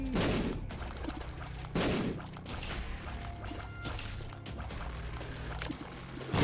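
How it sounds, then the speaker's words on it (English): Repeated explosions and bursts of gunfire-like blasts from The Binding of Isaac game, several loud booming hits with crashing decay, overlapping in a chaotic, busy game soundtrack. "So many explosions!"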